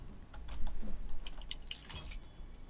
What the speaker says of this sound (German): man hört deine Tastatur so laut und es nervt